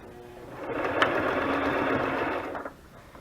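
A sewing machine stitches a handmade butterfly journal in one close, continuous whirring run of about two seconds that rises, holds steady and then stops.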